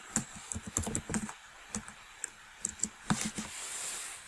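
Someone types a name on a computer keyboard, a quick run of close, crisp key clicks with short pauses between bursts, quiet overall with no talking.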